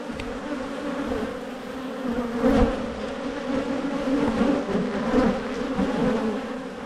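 Honey bees buzzing at an open white hive during a brood inspection, a dense steady hum with swelling intensity and occasional close passes, no voices.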